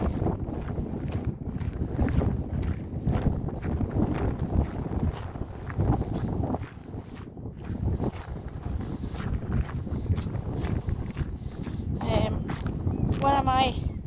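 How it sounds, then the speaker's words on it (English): Breezy weather on a pier: steady wind buffeting and rumbling against the microphone, loud and continuous, with footsteps and movement mixed in. "But it's dry. It's yeah, it's breezy."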